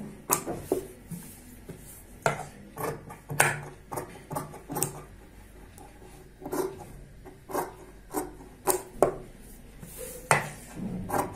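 Scissors cut through kurti fabric with a string of crisp metallic snips and clicks, irregular and fairly quiet, heard up close with pauses between cuts.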